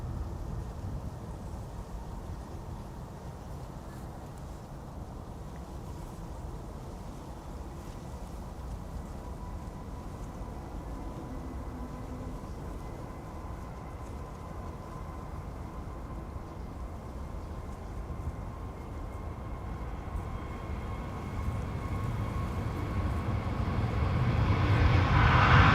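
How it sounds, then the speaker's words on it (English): Delta airliner taking off on the Polderbaan runway at Amsterdam Schiphol, a low, steady engine roar that swells louder toward the end as the aircraft nears, with no talking. "Doesn't seem to be having any problems on takeoff."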